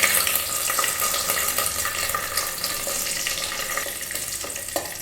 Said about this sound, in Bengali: এবার আমি এগুলোকে সব ঘিয়ের মধ্যে দিয়ে দিচ্ছি